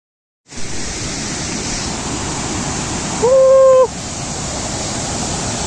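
Bangara Kusuma Falls in the Sharavati Valley pours down as a steady, loud broadband rush of falling water close by, with a short whistle-like tone rising over the roar midway.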